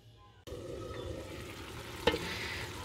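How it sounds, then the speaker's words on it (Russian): Liver fries in oil in a pan, a steady close sizzle starting abruptly and holding evenly, with one brief clatter partway through. "Масло уже на сковороду я налила."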